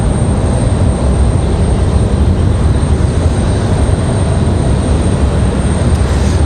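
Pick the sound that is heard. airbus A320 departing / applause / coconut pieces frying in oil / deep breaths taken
airbus A320 departing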